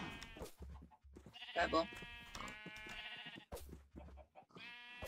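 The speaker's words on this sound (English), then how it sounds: "We need more sheep." Several sheep bleat in short wavering cries in HHCraft, a Minecraft-style video game, coming in repeated bursts while people talk.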